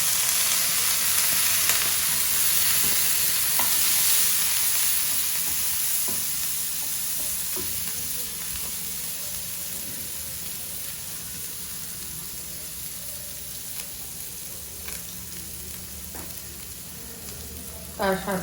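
Chicken pieces and onion fry in a pan with a splash of vinegar, giving a steady close sizzle with occasional scraping stirs throughout, softening slightly toward the end.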